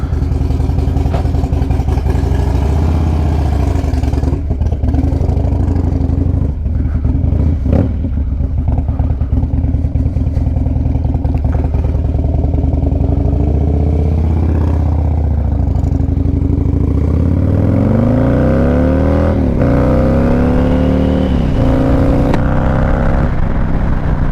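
A Fab28 Harley Dyna with a 2-into-1 exhaust rumbles continuously while being ridden. The engine is loud and steady with gear changes and rising revs, and wind noise runs underneath.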